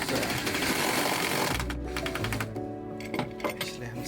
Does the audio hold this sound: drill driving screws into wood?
yes